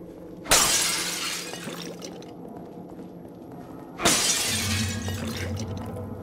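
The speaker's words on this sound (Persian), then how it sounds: "باید شیشه رو بشکنیم" Two sharp bursts of glass window shattering in the video game The Evil Within, each a loud crash trailing into scattered falling fragments, heard alone over a low ambient game drone.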